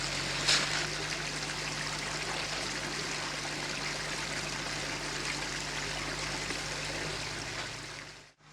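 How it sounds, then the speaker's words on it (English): Liquid beeswax pours steadily into a candle mold in a continuous trickling stream, close by, for several seconds before stopping abruptly. "All right, Jeremy, pour it in, buddy."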